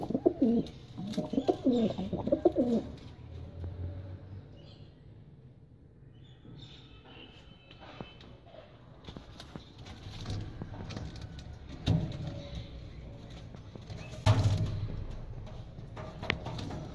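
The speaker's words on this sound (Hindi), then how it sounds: "सर्दी की वजह से कबूतरों को भी ठंड लगी हुई है, ये भी बस आराम से बैठे हैं" Soft, low pigeon cooing, a few rolling coos near the start, then quieter stretches with occasional rustles and more cooing later, close by.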